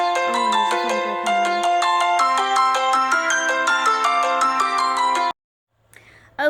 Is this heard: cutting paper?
no